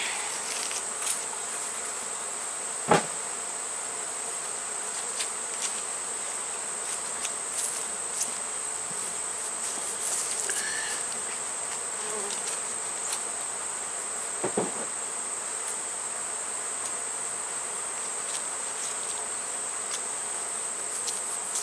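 Honey bees buzz around the frames of a hive box, a steady close drone that carries through the whole stretch, with a couple of sharp knocks and brief louder passes.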